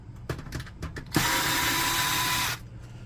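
A power screwdriver backs a screw out of an HP LaserJet P1102w printer in one close, steady whine of about a second and a half, preceded by a few light handling clicks and taps.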